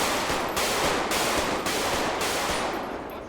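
Sustained automatic gunfire in a video game, loud and dense, with several bursts that break off briefly and then start again. No one talks.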